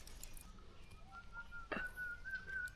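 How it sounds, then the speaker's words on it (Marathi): A bird calls outdoors in a Konkan village, a clear tonal whistle-like call repeating over about three seconds with a brief sharp burst near the middle, set against steady low outdoor background noise. "हा पक्षी ओरडतो ना ऐकायला खूप भारी वाटतं."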